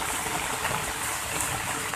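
Flooded Lamasi River in Luwu, swollen by floodwater, rushing as a dense, continuous, fairly close gushing roar with no voices.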